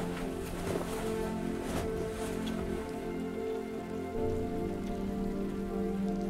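Rain falling in the video game Road 96, a steady, dense patter of drops across the full length, moderately loud with no clear talking over it.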